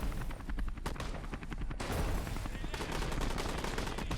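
Machine gun fire in the Cold War DLC of Men of War: Assault Squad 2: sustained rapid bursts of automatic gunfire, loud and dense, with the volleys running almost continuously and thickening toward the end.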